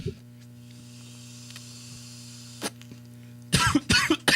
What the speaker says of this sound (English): Got a cough to get off, man.